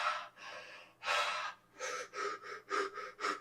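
A person does open-mouth bioenergetic breathing, with a series of loud, close, forceful breaths. A long inhale is followed by several shorter rhythmic breaths in a halting pattern, with no speech.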